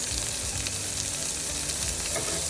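Garlic and onion fry steadily in a pan, giving a continuous close hiss and crackle with no talking, while making kangkong adobo.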